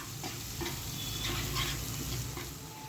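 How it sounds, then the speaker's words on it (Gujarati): Onions and two small green chillies sautéing in hot oil in a pan, stirred with a spoon for spiced leftover rice, giving a continuous close sizzle with light scraping strokes and no talk. "હવે આપણે બધું સરસ હલાવી લેશું અને થોડીક ટ્રાન્સપરન્ટ થાય ત્યાં સુધી ડુંગળીને"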